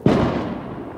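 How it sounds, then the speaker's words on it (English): One firework bursts with a sharp loud bang, then a rumbling crackling tail fading over about a second at New Year celebrations. "Hey Bugs, look at the fireworks"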